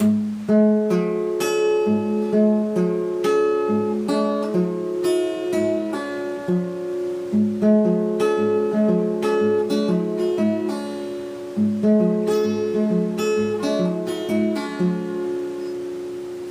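An acoustic guitar fingerpicks a blues piece, an octave melody line over an alternating thumb bass, played alone in a steady, even rhythm with no voice.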